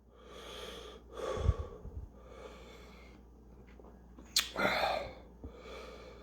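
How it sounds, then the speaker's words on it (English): Heavy, labored breathing after eating very spicy Geum B "Devil of Fire" ramen noodles: several loud close snorting exhales and sharp sniffs in uneven bursts, with quieter gasps between and faint background hum. "I'm breathing kind of heavy"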